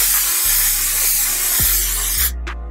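A loud, continuous spray hiss from a makeup setting spray pump bottle close up, ending abruptly, then one short puff of spray.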